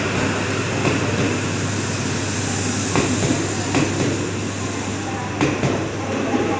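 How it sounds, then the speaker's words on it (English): A Shinkansen bullet train on the Shin-Osaka service leaves platform 14 at Tokyo station, giving a continuous close rumble and hum with a few brief clunks over station ambience. "the last train for this vlog out of platform 14"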